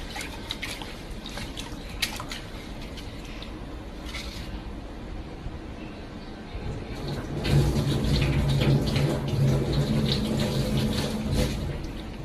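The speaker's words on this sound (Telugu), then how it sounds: "రైస్ నీట్గా 2 times కడుక్కోండి గైస్." Rice being washed in water for paneer biryani, with running tap water and sloshing and splashing close by that grows fuller and louder partway through.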